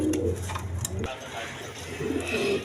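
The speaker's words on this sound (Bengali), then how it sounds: "এখানে এক পেয়ার আপনার লটন কবুতর আছে, ইন্ডিয়ান লটন কবুতর" Soft throaty cooing from a pair of Indian Lotan pigeons at a pigeon farm, repeated low calls fairly close with faint background noise and a brief rustle.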